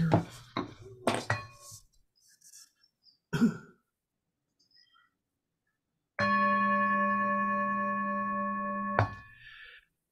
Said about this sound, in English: Let me whip out my gong here.